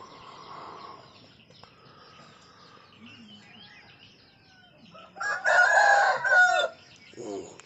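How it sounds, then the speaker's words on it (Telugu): Roosters crow at dawn outside a tent at a hill station, one loud close cock-a-doodle-doo bursting out after quieter distant clucking and bird chirps, then a shorter call at the end. "చూసారుగా కోళ్ళు కోస్తున్నాయి"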